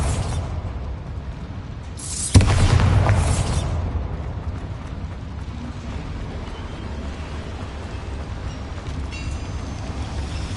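A Bombarda blasting spell explodes in Hogwarts Legacy, a single sudden loud boom with a rumbling tail that fades over about a second amid steady ambient game background.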